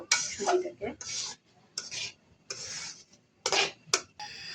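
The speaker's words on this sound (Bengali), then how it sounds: "এই জন্য আমি সুজিটাকে সুন্দর করে ভেজে নিব ভালো করে" Semolina roasting in a pan for halwa, stirred with a spoon in bursts of dry scraping and clinking against the metal, separated by short quiet gaps.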